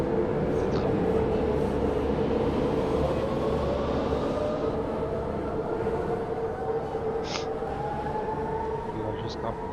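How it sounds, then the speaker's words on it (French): A tram rumbles past in the Berlin setting of the video game Subway Simulator 2, a continuous low rolling drone with a rising whine, while someone talks over it. "comme on peut le constater, il y a des tramways."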